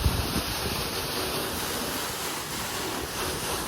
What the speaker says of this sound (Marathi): त्या विहिरीचं पाणी विहिरीत चालू आहे, त्या वरच्या विहिरीमध्ये.